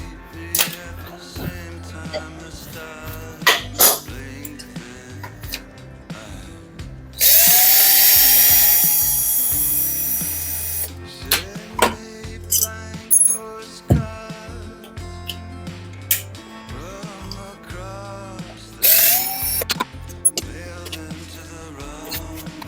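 A power drill unscrews fasteners from the fan motor of a Carrier 1.5-ton window air conditioner, with one long whirring run and a second short burst among clicks and knocks of handled metal parts.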